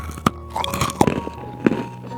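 Someone bites into crunchy fried onde-onde, sesame-coated rice balls. Several crisp crunches sound close to the mic, with chewing between them and no talking.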